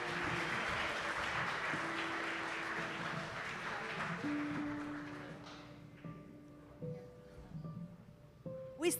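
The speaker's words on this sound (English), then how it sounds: "Big applause for the jury." An audience applauds the jury as it joins the stage at a startup pitch event; the dense clapping fills the first several seconds, then thins and fades out over a faint sustained tone.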